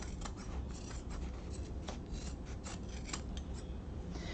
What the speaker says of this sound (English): I'm just going to get in here with my scissors, trimming anywhere between 1/4 and 1/2 inch.